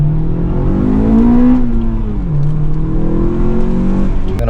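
A 4-cylinder Acura TSX engine fitted with a custom-made DIY intake revs loudly and steadily up close, its pitch climbing, dipping briefly, then rising again with a deep intake roar throughout.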